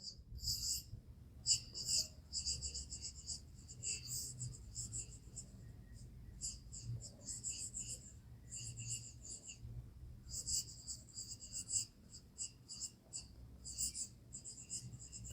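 A teacher writes notes on a board during a biology lesson, making quick, scratchy high strokes in irregular bursts. The writing is faint and sits over a low, murmuring voice.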